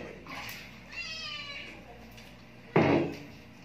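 A cat meows in a drawn-out, rising cry at close range, with a person speaking softly around it and a sharp knock near the end, like a cupboard or door closing.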